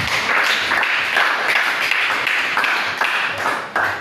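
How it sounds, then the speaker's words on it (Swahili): Congregation clapping in praise of Jesus during a Swahili church sermon, a steady dense patter of many hands held up for about four seconds with no voices over it. "Tupige Yesu makofi"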